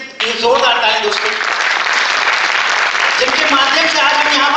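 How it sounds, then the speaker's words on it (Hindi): Loud, sustained audience applause at a business recognition event in a memorial hall, with voices and cheers mixed into the dense clapping throughout. "मैं चाहूंगा एक बार उनके जोरदार ताली दोस्तों"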